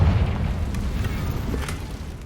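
A Confringo blasting spell goes off in Hogwarts Legacy, a loud, rumbling explosive boom with sustained low-end roar lasting a couple of seconds.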